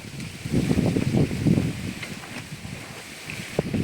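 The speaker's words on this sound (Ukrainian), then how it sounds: "Сьогодні трохи вітряно." Low, rumbling buffets of wind batter the microphone outdoors in an apricot orchard, gusting unevenly and loudly with no voices present.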